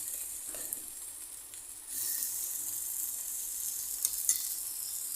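Mashed tapioca stirred together with egg in a hot frying pan for a street-food snack, giving a steady hiss of sizzling and a few scraping stir sounds that swell louder after the first couple of seconds, with no talking.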